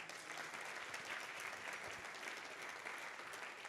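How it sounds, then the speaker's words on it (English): Sustained applause from a crowd at a philanthropy luncheon, a dense and even wash of many hands clapping throughout, heard somewhat distant and without any voices over it. "Another huge round of applause."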